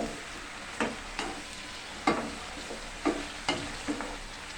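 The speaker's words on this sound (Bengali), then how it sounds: "ঢাকনাটা উঠায়ে ব্রোকলিটা ভালো করে নাড়াচাড়া করে নেব" A spoon scrapes and knocks through broccoli in a cooking pot in five or six distinct bursts over a soft background sizzle, close and fairly clear, with no talking.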